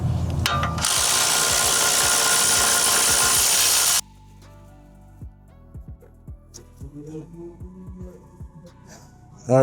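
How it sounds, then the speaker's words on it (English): A power tool whirs loudly and continuously for about four seconds while taking out the brake caliper bolts on a Lexus RX350 F-Sport during a front brake job, followed by quieter scattered clicks and knocks of handling parts. "All right, got the two bolts out."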